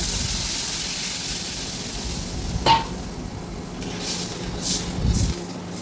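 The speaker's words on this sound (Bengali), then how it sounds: "এখন আমি জল দিয়ে দেব।" Fried potatoes in a pan for a thin potato-and-fish curry give a steady broadband sizzle and hiss, with a brief sharp burst as water is added and a few louder bubbling swells near the end; no voices.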